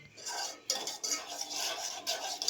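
Maggi noodles and pasta are mixed together with utensils in a pot, giving close, scraping metal strokes and clinks in short bursts roughly every half second.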